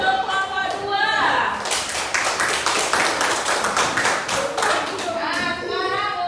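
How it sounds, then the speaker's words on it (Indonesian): A school class claps for a group of classmates, a burst of many small hands slapping in quick uneven rhythm, with children's voices chattering before and after the applause. "Tepuk tangan untuk kelompok 2."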